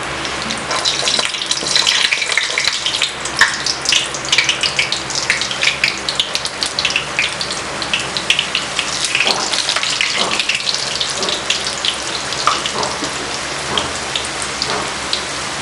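Tausug pastil sizzles in hot oil in a pan, a steady crackling hiss with frequent sharp pops and spatters, close and continuous throughout.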